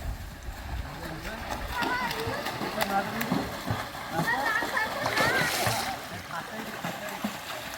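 Water splashes from someone jumping into a farmhouse swimming pool, with repeated sloshing and spray building to a louder burst near the end, under continual voices of adults and children.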